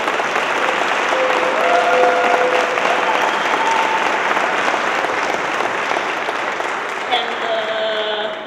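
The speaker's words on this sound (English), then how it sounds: "Let's make them a big applause" Audience applauds at the opening of the Wikimania 2016 hackathon in Esino Lario, a steady, full burst of clapping from a crowd, sustained throughout with a brief swell near the end.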